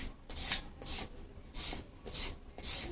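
A papaya shredder rasps repeatedly down the flesh of a papaya, giving about six close scraping strokes in an even back-and-forth rhythm with brief pauses between them and no talking.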